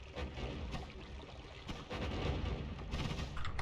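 Rapid chaotic explosions in the roguelike video game Noita, a dense barrage of booms and crackles rumbling continuously at high volume with no talk.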